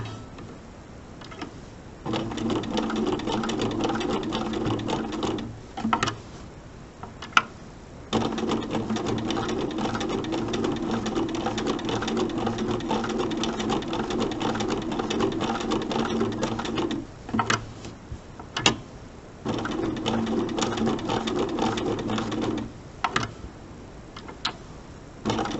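Sewing machine stitching a mini quilt, running in long steady bursts of rapid needle clatter with several brief pauses between runs, close and fairly loud.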